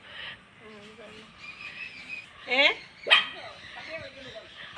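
A dog gives a couple of sharp, yelping barks amid quieter whimpering sounds, fairly close, with a person's voice murmuring in the background.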